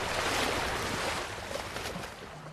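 Steady broadband wash of a boat motor running on a river, a continuous even drone with water noise, moderately loud and uninterrupted, no voices.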